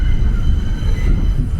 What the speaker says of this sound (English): There's the 242nd Street storage yard for the #1 train.